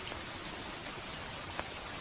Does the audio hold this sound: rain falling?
yes